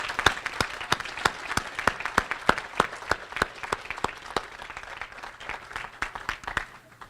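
Audience at a college presidential inauguration giving faculty colleagues a round of applause: a crowd's sustained clapping with sharp, distinct nearby claps standing out in a steady rhythm, tapering off at the end.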